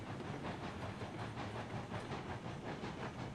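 A steam locomotive in the train game Railroads Online gathers speed, with a steady loud hiss of steam and a dense rolling rumble running throughout, and no voices.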